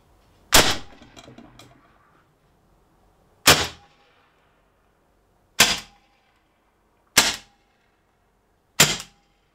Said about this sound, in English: Five shots without the restrictor disc.